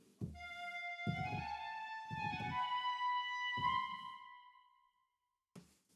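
A high, airy sampled piccolo line of several notes, rich in overtones, rings into a spacious reverberant tail that fades before a faint soft thump.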